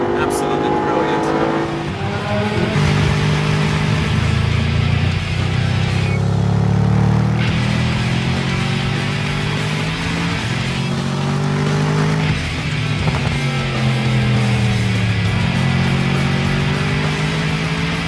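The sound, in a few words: sports car engine racing on track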